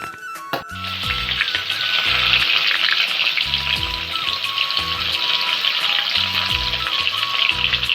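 Oil sizzles and crackles steadily in a pan where fish has just been fried, a loud, continuous close-up hiss with faint clinks and stirring bumps underneath and no voices.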